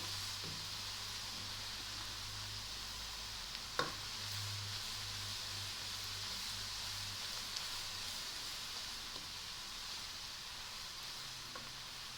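Onions fry in a pan for a white korma, giving a steady, soft, even sizzle with occasional faint clinks of stirring and no talk.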